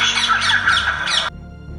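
A spotted owlet, a small nocturnal owl near Pune, gives a loud, close series of harsh chattering squawks lasting just over a second before cutting off.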